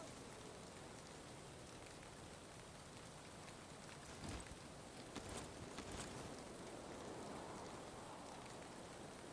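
Steady rain in the Valheim game, a dense even patter of drops across the whole stretch, with a few brief louder crackles midway and no talking.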